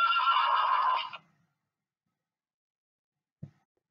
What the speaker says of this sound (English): And a horse neighs.